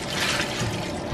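Running water splashes steadily while piñon nuts are rinsed in a kitchen, a close, continuous wash of liquid noise with no voices.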